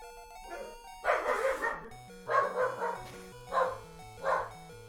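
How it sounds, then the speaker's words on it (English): Jerry the dog barks from nearby, a series of separate sharp barks in uneven clusters, over quiet chiptune-style game music playing in the background. "And that's Jerry. Jerry's my dog."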